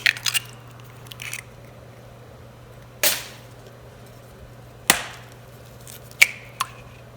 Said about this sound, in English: Let me chop up the onions.